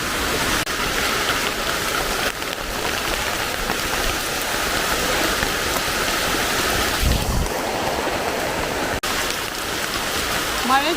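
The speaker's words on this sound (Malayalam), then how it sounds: "മഴ തുടങ്ങിയിട്ടുണ്ട്" Steady heavy monsoon rain pours down outdoors, a loud, dense, continuous hiss of drops on surfaces that holds unbroken for the whole stretch.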